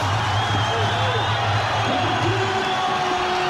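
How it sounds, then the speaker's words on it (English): A capacity crowd roars and cheers at an Australian Muay Thai fight, the biggest in the sport's history there, as Wayne Parr faces Dzabhar Askerov in the final round; dense, sustained crowd noise with voices and a low hum throughout. "The biggest crowd in Australian Muay Thai history is giving it up to the biggest star of all."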